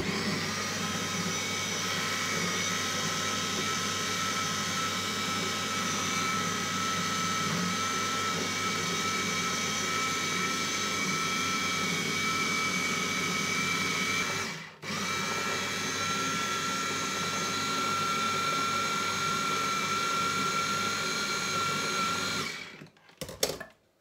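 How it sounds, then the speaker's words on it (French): Blender whirring steadily as it blends homemade bouillon cube ingredients, a loud continuous motor whine that briefly cuts out and restarts, then stops with a clatter at the end. "et mixer une deuxième fois"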